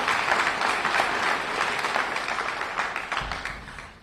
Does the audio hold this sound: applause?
yes